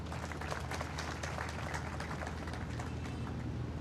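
A seated audience applauds a project team at an event at Karachi's stadium, giving dense, continuous clapping that holds evenly from start to finish with no voices over it.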